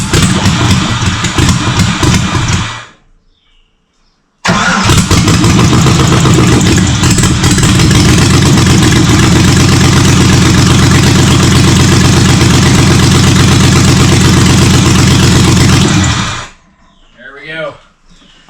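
A car's engine cranks and catches after flood repair with a new fuel pump and filter, sputtering, cutting out, then restarting into a loud, steady, slightly rough idle before shutting off; a person talks briefly near the end.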